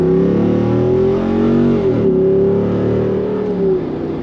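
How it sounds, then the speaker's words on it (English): A Jeep Wrangler 392 with its V8 Hemi accelerating from inside the cabin, a loud, steady exhaust growl that rises in pitch, eases briefly, then climbs again with an upshift, with no talking. "right away you can hear when the valves open up to let that exhaust note through of the V8 Hemi just growl"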